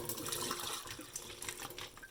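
Boiled leaf water is poured from a pot in a continuous, fairly loud splashing stream with no pauses, close by.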